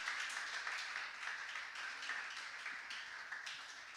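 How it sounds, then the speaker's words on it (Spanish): A church congregation claps steadily in rhythmic unison during worship, a moderately close, even stream of hand claps filling the room with no talk over it. "Fuerte las palmas para el Rey de Reyes y Señor de Señores."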